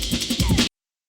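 A short reversed drum break chop from a drum and bass pattern built in Serato Studio, with swelling, backward-sounding hits in a quick choppy rhythm, loud and close, cutting off abruptly after well under a second.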